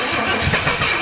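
An abandoned barn-find Jaguar engine, unrun for about 20 years, cranks and catches in a short loud burst, with uneven pulses as it tries to start.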